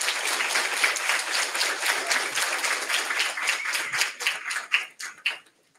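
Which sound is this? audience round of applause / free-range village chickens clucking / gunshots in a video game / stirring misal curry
audience round of applause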